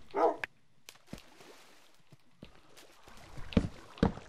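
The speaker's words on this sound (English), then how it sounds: "Wow, my dog got in." A Minecraft dog gives a few short, quiet barks spread out over several seconds, with soft clicks and footstep-like taps between them.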